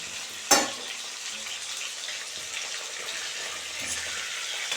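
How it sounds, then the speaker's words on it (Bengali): Chela fish frying in oil in a pan, a steady close crackling sizzle with one sharp knock near the start and light clinks, no speech. "তো বন্ধুরা মাছ ভাজা হয়ে গেছে এখন আমি তুলে নেবো"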